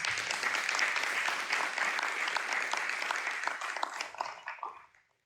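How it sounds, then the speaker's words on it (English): Audience members at a Ward 6 candidates' forum clap for two candidates, a sustained wash of applause that thins and dies away in the final second. "Give them a round of applause."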